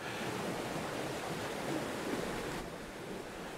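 A brook flows into the River Dove in the Dove Valley of the English Peak District, giving a continuous broadband rush of running water, steady and moderately loud with no talk.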